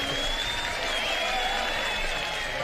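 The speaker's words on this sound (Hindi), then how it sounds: "इब्राहिम साहब के लिए तालियां तो बजाएं यार" Studio audience applause breaks out on a Pakistani game show, a steady dense clatter of many hands clapping that holds through the whole moment without pause.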